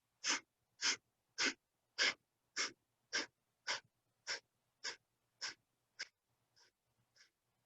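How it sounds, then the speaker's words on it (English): Rhythmic breathing during a yoga session, about thirteen sharp nasal exhalations evenly spaced, fading toward the end, close and clear with no talking. "breathing in about 3/4 and exhaling through the nose"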